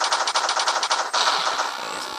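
Rapid machine-gun fire from the Mean Spheres Attack mobile game, a fast, evenly spaced stream of bright shots that blurs into a continuous rattle, loud and alone.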